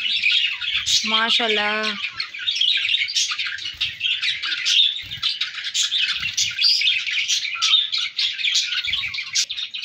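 Pet finches kept in cages chirp and tweet continuously in dense, high rapid calls throughout, with a brief voice speaking early on over the birdsong.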